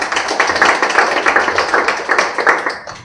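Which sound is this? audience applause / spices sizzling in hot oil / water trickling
audience applause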